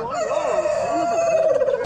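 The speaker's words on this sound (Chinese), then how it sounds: "大公鸡。" A rooster crows at an outdoor village market, a long drawn-out call with wavering pitch that holds steady and loud for nearly two seconds amid steady market background noise.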